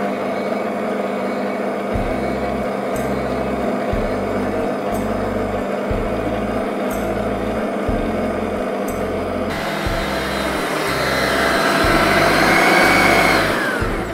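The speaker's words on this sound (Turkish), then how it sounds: "Her şeyin iyice karışması için 1-2 dakika daha çırpıyorum" Electric hand mixer whisking chocolate cake batter with melted chocolate and butter, a loud steady motor whir with a rhythmic pulsing beat as the beaters work the bowl, continuous and close with no talk.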